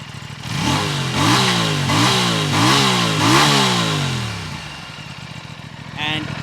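Loud, close revving from a 2024 Aprilia RS 457's underbelly exhaust: five rapid sweeps up toward the top of the rev range, then the engine drops back to a steady idle as a voice briefly cuts in at the end.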